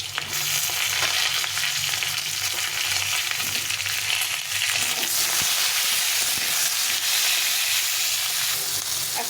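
Potato pieces and pointed gourd fry with cumin in hot oil, a steady close sizzle running unbroken, with faint stirring scrapes now and then.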